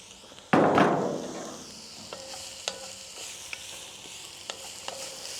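Chili with pepper and garlic in a pot, opening with a loud burst of sizzle as ingredients hit the heat, then a quieter simmer with sharp spoon taps against the pot.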